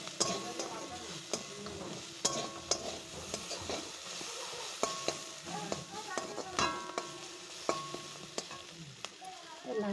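Ingredients for a chutney paste sizzle in a pan while a spoon scrapes and knocks against the metal in irregular taps, close up, with a voice faintly in the background.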